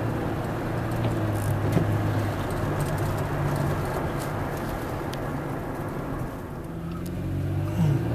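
A car drives at low speed through a college campus, giving a steady interior road rumble and engine hum, with faint ticks and bumps and no talking.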